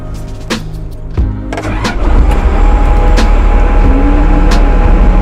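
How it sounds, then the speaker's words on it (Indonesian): A Komatsu WA200-3 wheel loader diesel engine cranks with a few short bursts, then catches and settles into a loud, steady idle close by. "Oke, mesin nyala dengan bagus"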